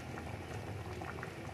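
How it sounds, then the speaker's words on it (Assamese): A pot of curry with cumin, for a black lentil and pork dish, bubbles at a steady simmer, a soft, close, continuous burbling with small popping bursts and no voices. "উতলি আছে"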